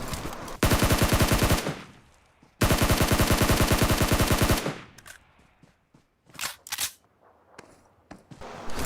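Gunfire in the mobile game PUBG Mobile. Two loud, sustained bursts of rapid automatic fire are followed by a few scattered, quieter shots in near-silence.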